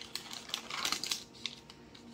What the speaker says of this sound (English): Just peel here.